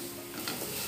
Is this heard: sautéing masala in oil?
yes